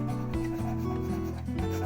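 Fine 400-grit sandpaper wrapped around a small notched tool rubs over a high spot on a guitar fret, a steady close scraping with faint string-like ringing tones underneath.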